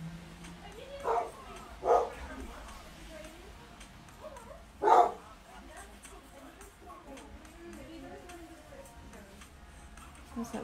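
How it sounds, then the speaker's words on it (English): A dog barks at someone arriving at the door, three short sharp barks spaced over the first five seconds, fairly near, then quieter whimpers and rustling, with a person talking in a room. "Sounds like we've got someone at the door, excuse the dog."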